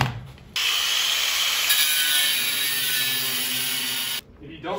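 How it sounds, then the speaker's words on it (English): An angle grinder cuts off a metal rivet with a loud, steady, high-pitched whine and grinding roar held for nearly four seconds, starting and stopping abruptly. "So we got our grinder."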